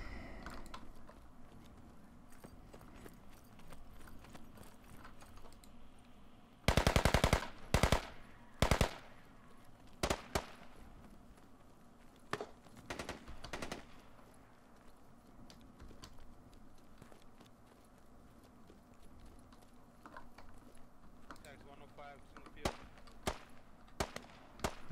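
Gunfire in the military shooter game Squad: several loud, sharp bursts and single shots stand out over a low, steady background, with voices talking between the shots.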